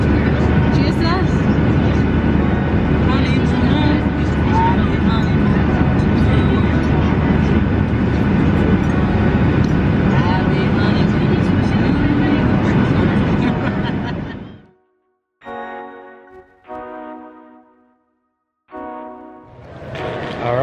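Loud, steady airplane cabin roar during takeoff on a long-haul flight, a broad engine rumble that holds for about fourteen seconds, then cuts out into quieter, broken sounds.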